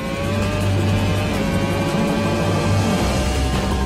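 A Formula 1 car engine screams at high revs in a Red Bull F1 simulator lap of the Istanbul circuit, loud and continuous with a steady whining tone and slight pitch shifts, no voices.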